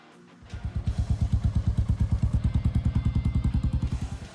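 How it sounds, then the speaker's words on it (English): A Royal Enfield Meteor 350 motorcycle's single-cylinder engine thumps in a steady, even pulse, loud and close, starting abruptly and holding a regular rhythm with no talk over it. "The Royal Enfield Meteor 350."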